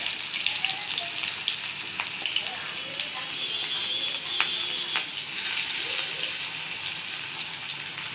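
Onions frying in hot oil with five-spice seasoning sizzle steadily and crackle close by, with brief clinks of a utensil stirring in the pan.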